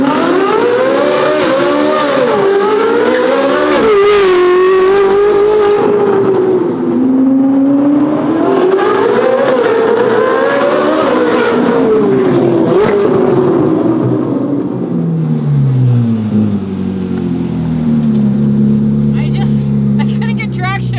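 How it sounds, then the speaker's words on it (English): A Ferrari fitted with an F1-style exhaust screams through repeated high-pitched revs that rise and fall in waves, tires spinning without traction, then drops to a lower burble near the end, with a voice talking over it. "Tell me that didn't just sound like an F1 car"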